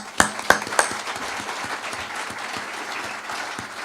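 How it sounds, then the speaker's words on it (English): A round of applause from an audience at a Colorado election review event opens with a few loud separate claps, then settles into a softer, steady wash of clapping. "I'm going to ask for a round of applause for the tip of the spear."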